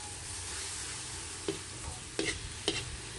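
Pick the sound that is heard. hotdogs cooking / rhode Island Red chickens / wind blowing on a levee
hotdogs cooking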